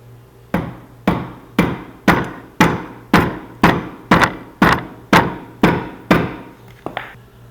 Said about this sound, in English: I'm just going to try to hit it with a rubber mallet, not be too aggressive, and we'll see what happens.